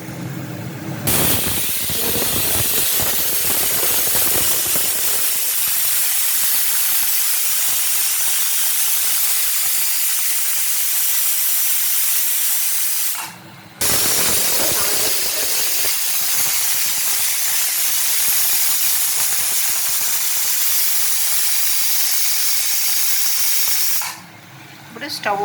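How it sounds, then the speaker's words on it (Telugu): Steam hisses hard from a pressure cooker of mutton curry on a medium flame, loud broadband rushing that holds steady in two long stretches separated by brief pauses. "ఆ 2 విజిల్లు ఫస్ట్ హై ఫ్లేమ్లో ఒక 2, మీడియంలో ఒక 2 విజిల్ వచ్చిన తర్వాత స్టవ్ ఆఫ్ చేసేసిన తర్వాత"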